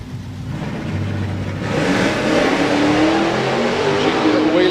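A drag racing car launches down the Santa Pod strip, a loud rising engine roar that builds and climbs in pitch as it pulls away, with crowd and track noise around it.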